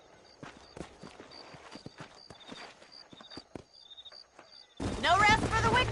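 Horse hooves clip-clop in Red Dead Redemption, a scattered run of soft, uneven thuds over a quiet backdrop with faint tonal music, ending in a sudden loud burst of noise.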